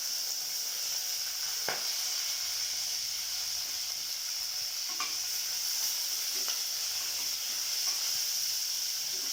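Carrot, tomato and green chilli frying in a pan with bay leaf and shahjeera, a steady close sizzle with a few soft stirring knocks and no talking.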